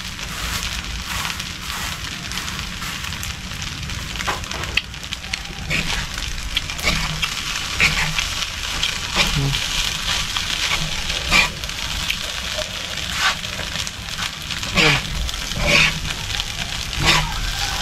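Food fries and sizzles in a pan as it is mixed, a steady broadband hiss with scattered scraping clicks of a utensil against the metal running throughout, fairly close and continuous.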